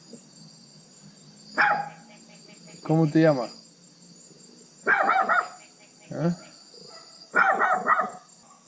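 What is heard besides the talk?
dog barking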